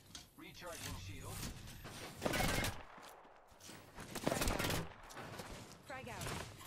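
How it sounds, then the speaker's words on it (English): Gunfire and fusillade bursts in the battle royale video game Apex Legends, loud repeated volleys in clusters across the clip, mixed with game effects and voices talking over the shooting. "I am taking fire, friends."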